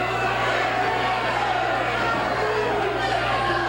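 A dense, steady roar of a large wrestling arena crowd fills the space continuously, loud and unbroken, with no distinct voices standing out.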